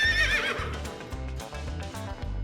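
A horse neighs loudly in a cartoon setting, a high, wavering whinny at the start over a heavy, rhythmic backing of music.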